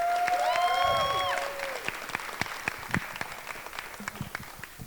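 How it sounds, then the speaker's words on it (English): An audience claps and cheers loudly at first, then the applause thins into scattered claps, with a whistle or musical tones near the start. "So can we give a round of applause for the audience, please?"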